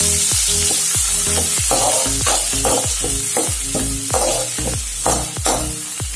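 Chopped large onion frying in hot oil with whole spices for a Bengali potato curry, a steady loud sizzle broken by a rhythmic series of scraping stirs about every half second, close up with no talking.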